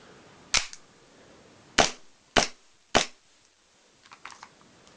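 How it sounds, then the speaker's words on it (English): Custom Kimber airsoft pistol with a heavy metal slide firing four sharp, loud cracks at uneven intervals, each with a quick mechanical snap, followed by fainter clicking handling sounds. "It's got a lot of kick for an airsoft pistol. It cycles really fast."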